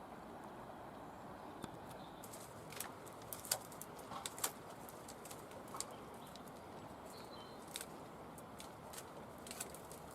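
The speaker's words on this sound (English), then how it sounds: "the birds are in full chorus" Morning bird chorus by the River Severn at an allotment, faint scattered chirps and calls over a soft, hissy outdoor background, some notes sharper and closer, others distant, with no talking.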